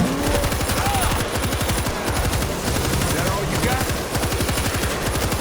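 Rapid automatic gunfire from the zombie shooter World War Z, New York hospital defense, rattling continuously and loudly throughout with dense repeated shots, a voice speaking over it.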